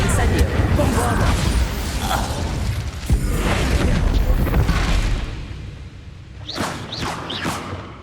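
Spell blasts from the Bombarda charm in the video game Hogwarts Legacy boom and whoosh amid combat, with a voice talking over the noise before the sound fades to quieter chirps.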